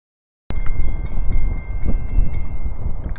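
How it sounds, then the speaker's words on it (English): A train passing close by bursts in abruptly and holds a loud, steady rumble for the rest of the moment, with some wind buffeting the microphone. "And there it goes, another train."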